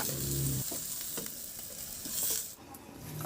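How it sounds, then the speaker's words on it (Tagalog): Crushed garlic with its skins on sizzling as it is sautéed in a hot pan after searing pork for adobo, a steady loud frying hiss with a few stirring scrapes, close up and without talk. "Sa disim na kawali, igisa ko na yung bawang."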